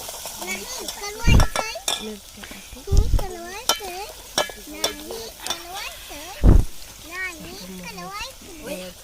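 Fish with homemade spicy chicken masala being stirred and mixed in a pan, with scraping and a few heavy thumps under frequent voices and chatter throughout.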